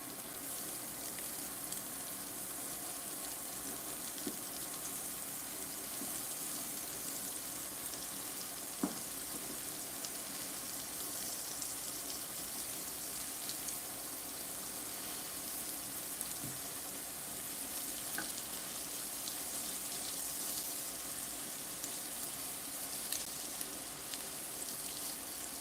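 Shrimp and garlic fry in butter in a pan, giving off a steady, close, loud sizzle with small pops and crackles that runs on for the whole stretch, and no one speaks.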